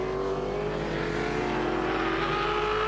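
A V8 Supercar racing engine at the Wanneroo circuit in the 2003 championship roars loud and sustained, one steady high-pitched note holding through the whole stretch with no voices.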